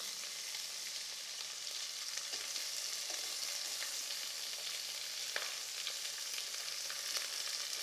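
Chopped large onions with a little coriander leaf sautéing in a pan, giving a steady, close sizzle and crackle with no talking.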